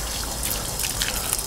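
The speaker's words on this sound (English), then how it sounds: "give everything a good hose down with fresh water." Fresh water hosed over an outboard motor, a steady close spray and trickle of water running across the engine casing with no talk.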